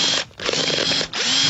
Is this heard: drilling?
yes